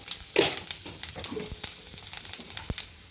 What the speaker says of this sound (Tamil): கடுகு, உளுந்து, அதில் கொஞ்சம் ஜீரகம் போட்டுக்கலாம்.